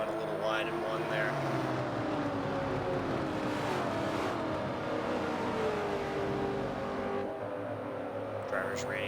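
NASCAR Truck Series trucks racing through the esses and down the back straight at Watkins Glen, a continuous engine drone with passing swells and shifting pitch, under a commentator's talk.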